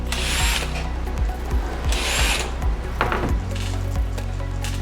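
A power screwdriver removes Torx T8 screws from a PlayStation 4 power supply unit, a steady close motor whir with short bursts and pauses as each screw backs out.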